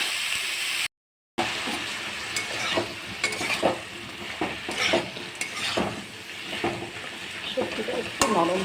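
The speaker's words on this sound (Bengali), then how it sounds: "এবার এটাকে একটু হালকা ভাজা করে দেবো।" Vegetables with salt and turmeric stirred and lightly fried in a pan, a steady close sizzle broken by repeated scraping strokes of a utensil, with a brief silent gap near the start.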